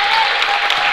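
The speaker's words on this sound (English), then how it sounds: "They're met by a standing round of applause here on the" Standing applause from fans at a boys basketball game between Hinton and Watonga, a loud continuous wash of clapping filling the gym for the whole second, with a faint tone running beneath.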